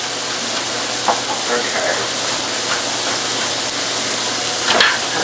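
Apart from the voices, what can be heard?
herb stuffing mix being stirred in pan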